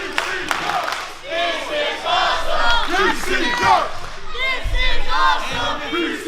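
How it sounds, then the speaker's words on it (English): A large crowd at a professional wrestling show roars and chants in unison, loud and close, the rhythmic chant rising and falling with cheering voices throughout. "Crowd showing an amazing amount of respect and appreciation for both these men"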